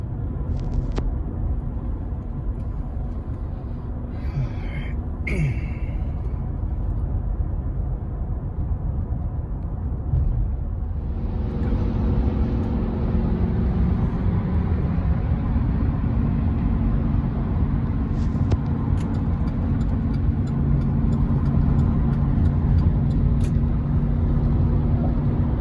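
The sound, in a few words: truck driving on highway hauling a pigeon trailer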